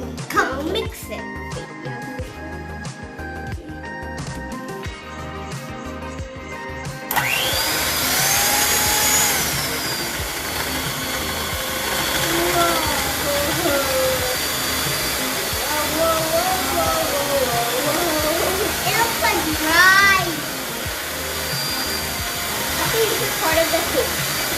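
Electric mixer whirring through vanilla cupcake batter, a steady close motorized drone holding beneath voices talking over it.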